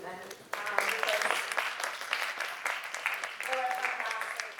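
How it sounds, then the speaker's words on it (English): Audience applause at an academic art, science and technology event, a steady wash of clapping lasting several seconds, with voices talking over it. "give a round of applause for these amazing women"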